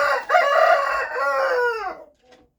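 A rooster crows once, loud and close, a single drawn-out call lasting about two seconds before trailing off into a faint cluck.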